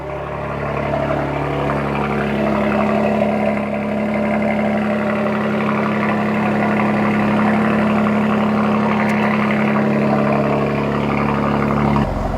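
A BMW G82 M4 with a six-speed manual and a titanium Valvemaster exhaust, valves open, runs at a deep, steady idle that stays close and constant throughout, with no voices.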